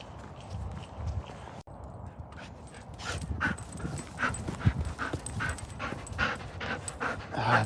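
Dogs at home, including one named Beau, breathing and panting close by with scuffling movement and soft sounds that grow busier and louder after a brief hush.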